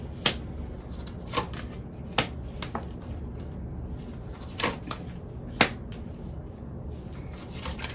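Tarot deck being shuffled twice and cut, giving soft scattered flicks and riffling snaps against a steady low room hum, with a few sharper card clicks spread across the clip and no talking.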